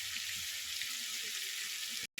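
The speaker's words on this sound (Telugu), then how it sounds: "ఈ మసాలాలు పచ్చి వాసన పోయే వరకు వేయించుకోవాలి." Cloves, ginger, shallots and mint leaves fry in a pan for a curry masala, giving a steady hiss and sizzle at close range. The sound cuts off briefly at the very end, and no one speaks.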